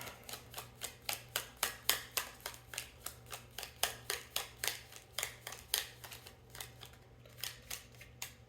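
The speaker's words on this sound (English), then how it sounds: "Give it one more shuffle." A deck of tarot or oracle cards being riffled and shuffled by hand, a fast run of crisp, evenly spaced flicks and snaps that slow briefly near the end, close and fairly quiet with no talking.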